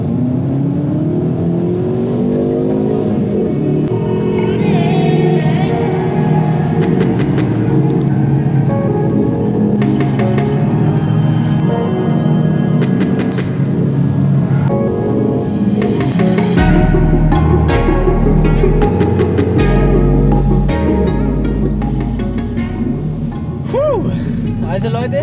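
A Hyundai i30 Fastback N runs a lap of the Groß Dölln race track, its engine revving and shifting loudly under continuous in-car talk, with repeated surges as it accelerates out of corners.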